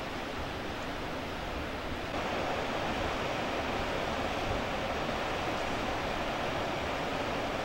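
A muddy, flooded Yoshino River rushes at night during a typhoon near Yoshino and Oyodo towns, a steady broadband roar of churning water with no speech.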